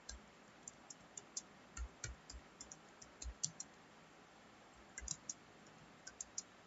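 Someone types HTML code into Notepad on a computer keyboard: sparse, faint, irregular key clicks, sometimes in quick little bursts, over a quiet background.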